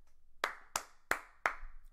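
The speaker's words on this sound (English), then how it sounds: "I'm gonna go and clap" Four crisp, separate hand claps from a character in Roblox Phantom Forces, evenly spaced and close, over a quiet game background.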